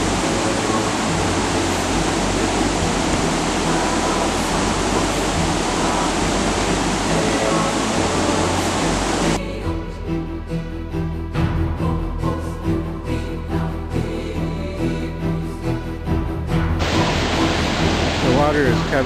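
Floodwater from the 2010 Ash Creek flood rushing in a loud, constant broadband roar, briefly dropping in level in the middle before surging back up near the end.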